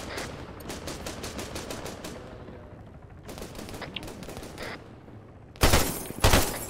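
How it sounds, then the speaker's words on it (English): Rapid bursts of automatic gunfire from Arma 3 rattle in quick, evenly spaced volleys, broken by a pause, then louder, closer shots crack near the end. "Yeah, they're shooting at us through the smoke"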